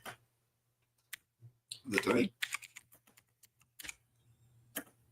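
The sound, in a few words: typing on a clicky computer keyboard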